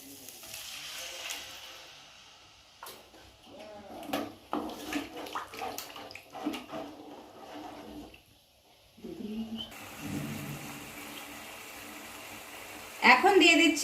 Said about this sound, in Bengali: এবার আমি দিয়ে দেব মশলা ধোয়া জলটা।